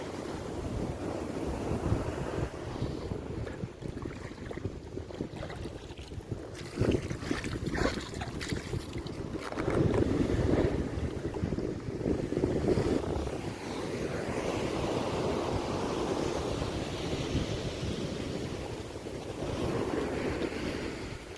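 Seawater flows and surges at a beach in Phuket, a rushing wash of water mixed with heavy wind buffeting the microphone, swelling louder in waves and continuing throughout.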